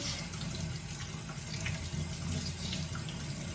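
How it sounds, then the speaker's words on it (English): Vegetables are rinsed under a running kitchen tap, giving a steady, close gush of water splashing into a sink without pause. "we rinsed our veggies and we are ready to go."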